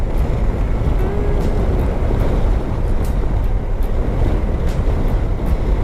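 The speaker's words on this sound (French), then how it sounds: "Le vent s'est levé" Steady wind roars across the microphone, a constant broadband rush with rumbling low gusts and no voices.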